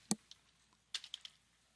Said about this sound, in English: grab the text tool and start typing